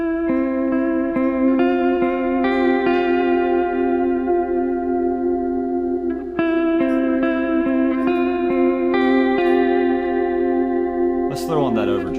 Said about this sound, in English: Hit the ambient switch to bump up the mix and decay for our reverb